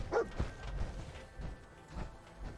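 Dogmeat, the dog in Fallout 4, gives several short barks and yips at irregular intervals in the game, moderately loud against a quiet background hum.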